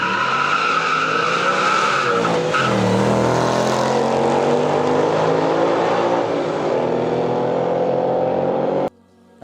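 A Shelby race car roars loudly along a track, engine howling as it rises and falls, with tires skidding and squealing, continuous and close, before cutting off abruptly near the end.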